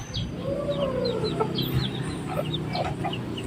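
Silkie chickens cluck and chirp close by while being fed greens, a busy overlapping stream of short clucks and higher peeps with no voices.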